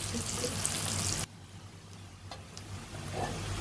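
Sliced onions fry in a pan for vegetable pulao with a soft, fairly faint sizzle. The sizzle cuts down sharply after about a second, leaving a low simmering crackle and a few small clicks.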